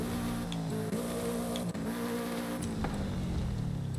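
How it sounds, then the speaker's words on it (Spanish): A car engine in the racing game Forza Horizon 5, fitted with a new exhaust, drones steadily up close with pitch that climbs and drops as gears change, loud and alone without talk. "Yo creo que nos hemos cargado un poquito de sonido del coche"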